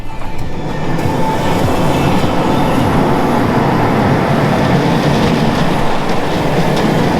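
A steady, loud rumble of a roller coaster at Alton Towers running on its rails, with continuous rattling wheel noise and a clattering roar close by, no voices.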